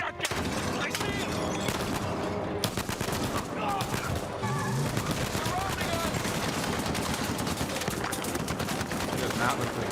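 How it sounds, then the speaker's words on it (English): Shotgun gunfire in the Uncharted 4 video game, shown during Sony's 2015 E3 press conference: dense, loud, continuous battle noise with bursts of shots and booms, while voices shout over the combat. "Nate, shotgun!"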